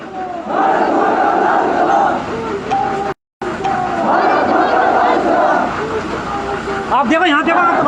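Thousands of people in a martyr's funeral procession in Kaimri village shout and chant together, a dense, loud roar of voices with a brief drop to silence partway through.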